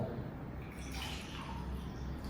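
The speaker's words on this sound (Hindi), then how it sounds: "और अभी ये ग्लास में मैं ये पानी डाल रहा हूं।" Alkaline water from a filtering machine is poured steadily into a glass, making a continuous soft splashing rush with a faint hum beneath it.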